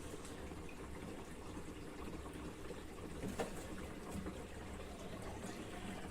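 A twin tub washing machine drains a couple of gallons of dark wash water, a faint, steady gushing and trickling flow with a small splash partway through.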